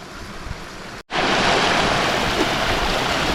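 Steady, loud rushing of spring water flowing close by on a backpacking route through Cumbria, broadband and continuous after a momentary dropout near the start, with no voices.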